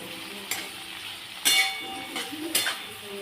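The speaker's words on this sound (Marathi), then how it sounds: "टॅमॅटो पूर्ण गळेपर्यंत ह्याच्या तेलात परतून घ्यायचे" Tomatoes sauté in oil for a cashew curry with a steady soft sizzle, broken by three sharp scrapes and clinks of a spoon stirring against the pan.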